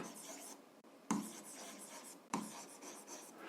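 Pen writing on paper during a seventh-grade algebra lesson, a steady soft scratching texture, close, broken by two sharper taps of the pen against the page.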